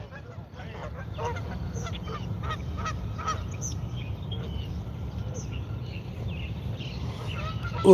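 A flock of geese honks repeatedly at a moderate distance, a busy chorus of calls over low background rumble.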